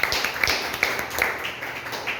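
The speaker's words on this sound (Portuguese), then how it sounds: "Receba nosso professor com as palmas" A church congregation at a Bible school class claps to welcome the teacher, a loose scattering of hand claps with a few sharper hits, moderately close and tapering off quickly.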